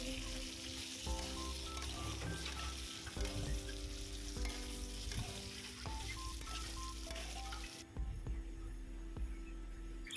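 Potatoes frying in oil with turmeric, a soft steady sizzle running throughout at low level beneath a tonal musical backing, with no talking.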